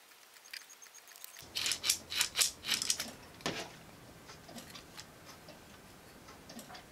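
A 3D-printed Galileo escapement mechanism ticks in a quick run of loud clicks, then settles into softer, evenly spaced ticks, close and alone with no talk.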